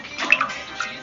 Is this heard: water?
yes